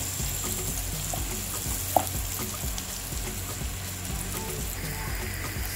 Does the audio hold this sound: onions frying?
yes